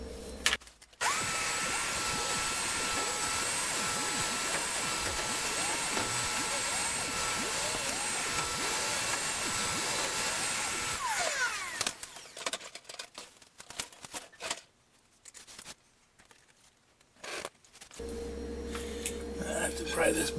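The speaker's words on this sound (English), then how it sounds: "I have to get the vacuum down here and clean this up" A vacuum cleaner runs during a furnace blower repair, a loud steady roar for about eleven seconds, then stopping and starting in broken bursts before running again toward the end.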